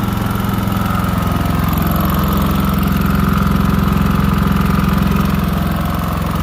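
A small portable generator engine, fed from a gas tank and running without an exhaust pipe, drones steadily and close by with a constant low hum and slight rattle, unbroken for the whole stretch.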